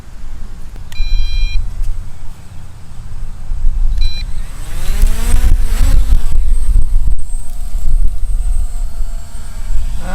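A JJRC X5 consumer drone takes off and hovers: two short electronic beeps, then the propeller motors spin up with a rising whine that settles into a steady, close buzzing hum.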